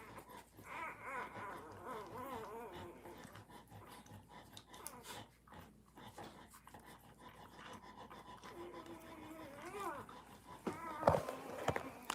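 A very hungry puppy pants and whimpers close up, with soft high whines and snuffling bursts over quiet handling noises and footsteps, ending in a sharper yelp.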